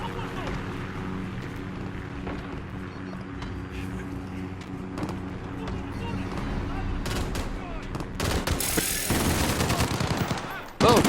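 Gunfire in a shooter video game, bursts of sharp shots and rattling fire scattered over a steady engine-like drone, building to a loud, dense burst near the end, with someone talking over it.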